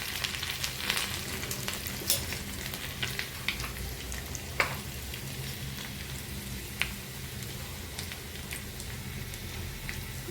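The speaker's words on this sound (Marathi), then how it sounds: "यामध्ये थोडेसे जिरे टाकणार आहे. अद्रक आणि लसणाची सुद्धा फोडणी" Cumin seeds, ginger and garlic fry in hot oil in a pan with a steady, soft, rain-like sizzle, broken by occasional sharp pops and light stirring taps, and no voices.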